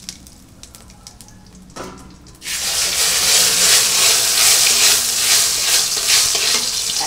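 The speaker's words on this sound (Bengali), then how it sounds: "আমি এখন তেজপাতা দিয়ে দিলাম, জিরেও দিয়ে দিচ্ছি, এক সম্বরা দিয়ে আমি বসিয়ে দেব।" Bay leaf and cumin seeds hit hot oil for tempering a potato and tilapia curry, setting off a loud, steady, close sizzle that starts abruptly and continues unbroken after a few quiet kitchen clinks.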